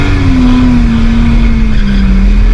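A drift car's engine revs loud and close, holding a steady strained roar with a slowly sinking pitch, no voices over it.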